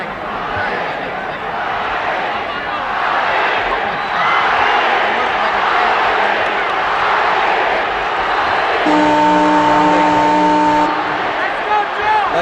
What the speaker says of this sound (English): The crowd is chanting Ali